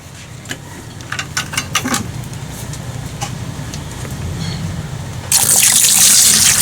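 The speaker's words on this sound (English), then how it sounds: "The next thing that we're going to need for this is some water." Water pours into a large container, starting as a faint trickle and splashes, then building into a louder, steady rushing gush near the end, close by with no talk.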